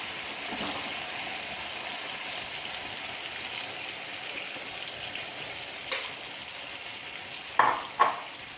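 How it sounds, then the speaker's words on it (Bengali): Ground urad dal, or biuli dal, goes into hot spiced oil and fries with a steady, soft sizzle, broken near the end by a few sharp clinks of a utensil against the pan. "বিউলির ডাল দিয়ে বেটে রেখেছিলাম সেটাকে আমি এর মধ্যে দিয়ে দিচ্ছি।"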